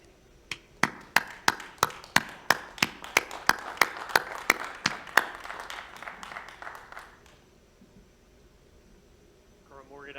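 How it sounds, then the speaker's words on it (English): A round of applause for new Army recruits at a swearing-in ceremony: sharp, evenly spaced claps building over several seconds, then fading out, with faint sound at the end. "Let's give an enormous round of applause to these great Americans"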